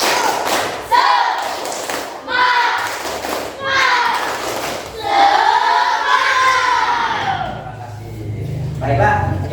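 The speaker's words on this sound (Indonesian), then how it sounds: "Masih semangat? Sekali lagi. Tepuk semangat." A group of participants performs a rhythmic tepuk semangat clapping cheer, with bursts of patterned claps and thumps alternating with loud chanted and shouted voices, the clapping mostly under the group's vocal cheers.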